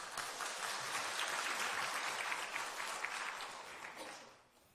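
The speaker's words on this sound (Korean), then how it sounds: "박수치려면 확실하게 쳐세요." Congregation applauding in a church during a Sunday service: a dense, steady wash of many hands clapping for about four seconds, fairly distant and reverberant, then fading out.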